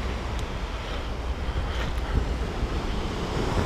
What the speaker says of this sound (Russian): Подходим к морю. А здесь уже море вымыло.